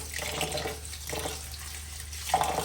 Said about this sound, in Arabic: بضلي بغسل هيك لحديت ما احس انه ايش الرز نضف معي